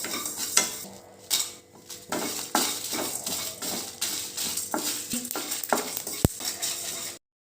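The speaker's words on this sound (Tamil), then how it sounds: "கொத்தமல்லி, சோம்பு, சீரகம், மிளகு, வெந்தயம், வரமிளகா இதெல்லாம் நல்லா வறுத்து எடுத்துக்கலாம்" A utensil scrapes and stirs repeatedly against a pan as coriander seeds, fennel, cumin, peppercorns, fenugreek and dried red chillies dry-roast, shifting and rattling, with a light sizzle and occasional metallic clinks.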